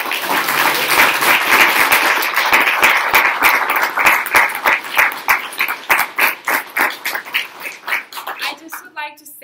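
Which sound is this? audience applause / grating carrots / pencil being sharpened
audience applause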